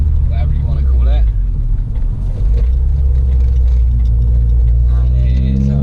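A Vauxhall Astra VXR in red driving, its engine a loud, steady low rumble close by with someone talking over it throughout.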